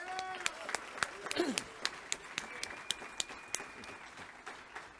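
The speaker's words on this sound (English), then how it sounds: "I would like to give a round of applause to all of our students that are here tonight" An audience at an awards celebration claps for students, fairly faint with distinct individual claps, while a voice carries on over it.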